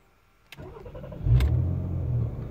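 A Rover 75 V6 car engine starting: a brief starter crank, then the engine catches and settles into a steady low idle, close by.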